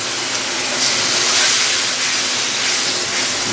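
Water added to a spice paste frying in a pan for a village-style spicy country chicken curry sizzles loudly and steadily, a dense close hiss that swells slightly midway.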